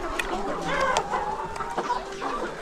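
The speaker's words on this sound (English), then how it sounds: "A rainbow rooster, 13 weeks old." A 13-week-old rainbow rooster clucking with short calls on a busy poultry farm, bird sounds scattered over steady background chatter.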